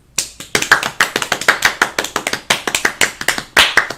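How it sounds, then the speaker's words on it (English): A round of applause at a live-streamed launch event: loose, irregular hand claps, near and fairly loud, with no talk over them. "And I think that deserves a round of applause."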